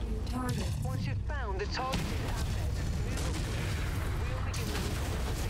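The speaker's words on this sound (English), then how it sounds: "using a sound mod that actually fixed the autocannon sounds" Rapid bursts of heavy autocannon fire mixed with booming explosions in the modded video game MechWarrior 5: Mercenaries, loud and continuous, with a voice heard briefly near the start.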